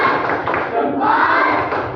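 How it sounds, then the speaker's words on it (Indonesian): A classroom of pupils performs a rhythmic salute clap: short thumping claps mixed with loud chanting voices, close and continuous for about two seconds. "Kasih salut, tepuk salut."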